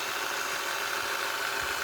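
A Singer Touch & Sew 600E vintage sewing machine with steel gears runs steadily on a zigzag stitch, giving a continuous, even mechanical hum and whir at close range with no talking.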